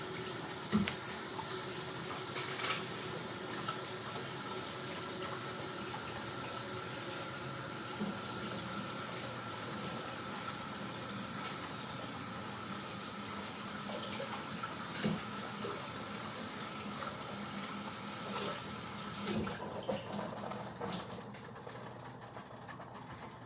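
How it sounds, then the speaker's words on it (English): Steady running hot tap water flowing into a sink while rinsing udon noodles, continuous and moderately close, with faint clinks near the start. "So I'm going to rinse them under some hot water."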